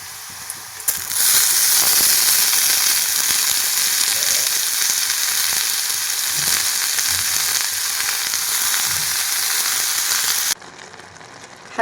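Onion, crushed garlic and red chili powder frying in an iron kadhai, a loud steady broadband sizzle that holds for about ten seconds and then drops away abruptly.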